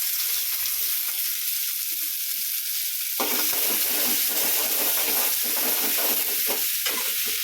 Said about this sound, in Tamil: இப்போ வெங்காயம் போடுறேன்